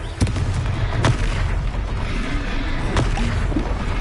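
Confringo fire spell blasts in Hogwarts Legacy, a few sharp booming bursts near the start and again around the three-second mark over a steady rumbling battle bed, with no voices.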